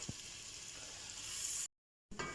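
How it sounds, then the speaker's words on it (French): Chopped onions sautéing in butter and olive oil in a pan, a steady bright sizzle holding for over a second, then a brief cut to silence before the sizzle resumes. "Revenir les oignons ciselés pendant environ 2 minutes"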